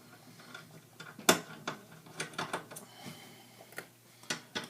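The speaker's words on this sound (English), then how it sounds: "we'll take the rest of the screws out" Screws being removed from an Xbox 360 case: faint scattered clicks, ticks and small ratcheting scrapes at close range, one sharper click early on, in an otherwise quiet room.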